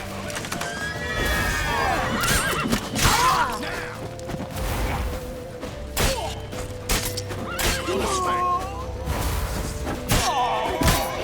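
Horses neigh and whinny repeatedly in The Witcher III video game, with hooves clip-clopping, thuds and clattering during a tense chase through a town, loud and busy, with shouting voices mixed in.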